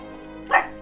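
A creature in the video game Gothic 3 lets out a single short dog-like bark over a steady background of game music.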